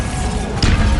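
A Bombarda blasting spell explodes in a Hogwarts video game: a sudden, loud, booming burst hits partway through and decays into a rumbling crash over a steady low game background.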